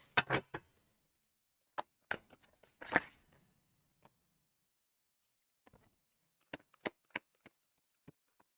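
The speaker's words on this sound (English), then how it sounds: "These cards are a little harder to shuffle because they're like so thin." Thin tarot cards being shuffled by hand in short riffling bursts, a cluster of quick flicks at the start, then scattered single snaps and taps separated by quiet pauses, close and fairly faint.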